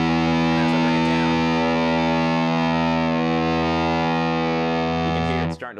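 Electric guitar through a Walrus Audio Eons fuzz pedal run at lowered voltage, one sustained buzzy, heavily distorted chord ringing steadily with a little pick noise before it is choked off at the end.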